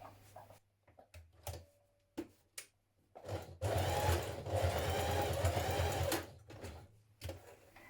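A sewing machine edge-stitches pockets for McCall's 7831 dungarees, starting with a few short separate stitch bursts and then running steadily for about three seconds, close and clear with no talking.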